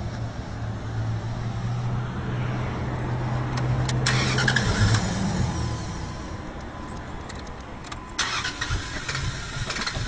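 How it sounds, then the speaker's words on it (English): A truck engine with its fuel shut off cranks steadily for several seconds under a constant low hum, with a couple of brief louder bursts, close and alone without voices. "we'll start it and make sure that any fuel that was left in the fuel rail is burned out real quick."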